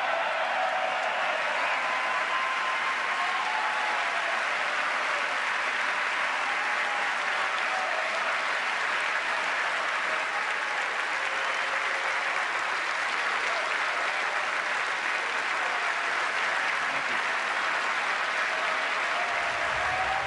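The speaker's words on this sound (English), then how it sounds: "Many of them, as you see here, standing ovations by lawmakers from both parties" Lawmakers giving a standing ovation during an address to a joint session of the U.S. Congress, sustained dense applause filling a large chamber, steady and loud throughout with no pause.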